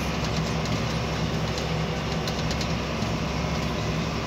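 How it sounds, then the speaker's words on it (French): A John Deere 6920 farm tractor rumbling through a field, a steady, continuous engine drone with no voices. "vous voyez le tracteur, il est passé"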